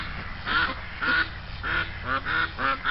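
A goose in a driveway honks repeatedly, about six loud, evenly spaced calls over a few seconds, close by and heard alone.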